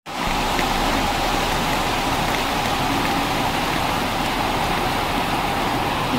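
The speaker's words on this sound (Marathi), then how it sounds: "आणि बाहेर पाऊस मोठ्याने पडतोय" Heavy rain pours down outside, starting abruptly and then holding as a dense, loud, continuous wash of hiss and splatter with a faint low rumble underneath, no one speaking.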